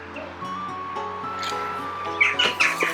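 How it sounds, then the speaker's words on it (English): A crow calls at the top of a castle, a few short harsh caws near the end over steady outdoor background with birds chirping. "And there's a crow."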